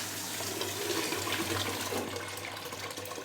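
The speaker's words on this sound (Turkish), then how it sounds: "Şöyle suyunu da dökelim." Water is poured off cooked dry beans, a steady close rushing splash that continues for a few seconds and tapers slightly toward the end.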